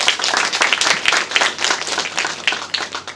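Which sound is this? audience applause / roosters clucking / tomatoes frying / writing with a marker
audience applause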